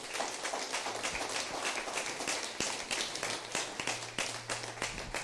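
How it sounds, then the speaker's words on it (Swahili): Many hands clap together at a Sunday church service, forming a steady, quiet-to-moderate patter of rhythmic claps across the room, with a low hum underneath and no voices. "Haleluya, makofi mazuri."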